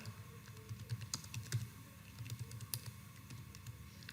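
Typing on a computer keyboard, a quick run of light, close key clicks at a steady, uneven rhythm with no talk.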